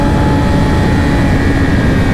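Loud, steady high-revving engine roar from a 2020 Yamaha R6 sport motorcycle fitted with a LeoVince Factory S exhaust, a dense continuous drone with no breaks, captured up close while riding.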